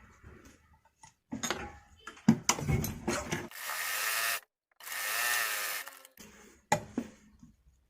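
A sewing machine stitches a baby A-line frock in short bursts of rapid mechanical clatter, several runs a second or two long separated by pauses, close and clear with no talking.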